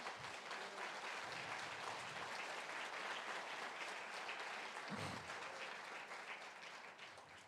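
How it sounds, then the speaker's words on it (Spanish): A church congregation applauds steadily for several seconds, a dense, continuous clapping that fades slightly at the end. "Denle un aplauso al Señor."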